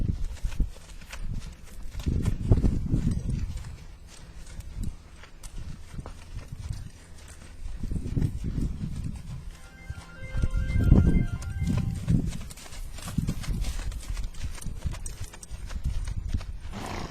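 Horse hooves clop in an uneven walking rhythm on soft ground, with creaks and rustles of movement, close by and moderately loud.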